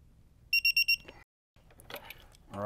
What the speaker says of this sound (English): And you're gonna tighten down until it beeps.